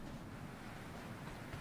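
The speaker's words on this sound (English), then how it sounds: "It is windy as hell" Strong wind blows outdoors, a steady low rumble and rush buffeting the microphone with no voices.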